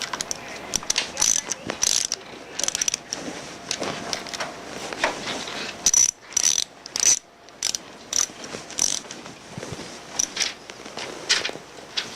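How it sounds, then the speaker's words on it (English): A 10mm socket ratchet tightens nuts on a TS410/TSD450 manifold and pump assembly, its pawl clicking in quick close bursts separated by short pauses, with no speech. "You tighten those two nuts up after you've got them on with a 10mm socket."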